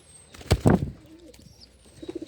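Pigeons being placed into their cage give a brief, close, low coo with a little rustling around it, followed by quieter soft murmuring sounds.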